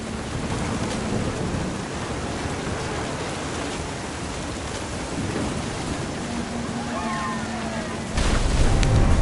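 Steady heavy rain hisses throughout a thunderstorm in the game What Remains of Edith Finch, with a low rumble of thunder under it. The storm grows louder near the end, and a voice narrates over it.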